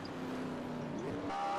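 NASCAR Sprint Cup race cars running on track at the Toyota Save Mart 350, a faint, steady engine drone with a rising pitch near the end.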